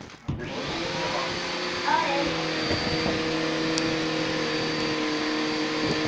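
A vacuum cleaner runs steadily with a constant whining hum, a few bumps and knocks along the way.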